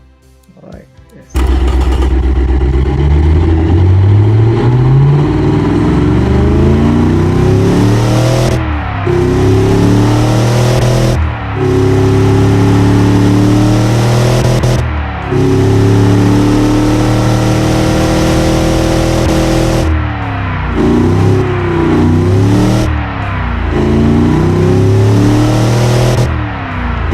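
Modified 255 Windsor V8 engine in the Automation game, revving loud and close in repeated rising sweeps with short drops and cuts between pulls.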